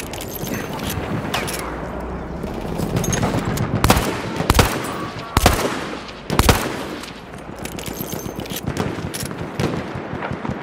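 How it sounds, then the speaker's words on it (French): Enemy machine gun fire in the Battlefield 1 video game rattles in long bursts, with several louder, heavier nearby shots punctuating the constant battle din. "Mitrailleuse ennemie en vue!"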